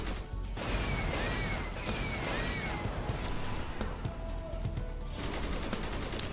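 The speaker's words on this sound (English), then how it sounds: "So yeah, that's the big gun, the adds." A big gun fires in the video game DC Universe Online, a dense, loud burst of rapid shots and impact crashes that runs almost without pause, with whooshing sweeps through it.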